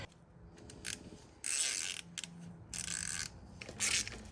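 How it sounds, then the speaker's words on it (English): Small 8mm wrench working a drain plug screw on the water pump of a Yamaha 700R ATV: a few bursts of close metallic ratcheting clicks separated by short pauses, fairly quiet with no talk. "This is the drain plug screw, so we're just gonna unscrew it just a bit."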